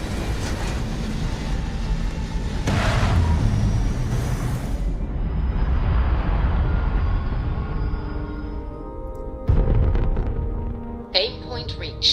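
In Starfield, a spaceship lifts off with a sustained deep engine roar and rumble that swells and then fades. Voices talk over it, and there are abrupt thumps and a high whine near the end.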